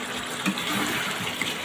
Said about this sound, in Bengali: দিয়ে এবার একটুখানি পানি দিয়ে দেবো